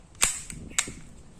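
A silver Cybergun Desert Eagle .50 AE gas BB pistol, run on 14K gas, fires two sharp, close cracks about half a second apart, each followed by a brief mechanical clack.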